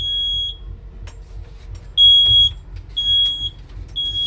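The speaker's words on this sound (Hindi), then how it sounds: "FDS power failure audio visual alarm." A shrill electronic power failure alarm on a train coach beeps in repeated tones, short chirps then longer beeps at regular intervals, over a low mechanical hum.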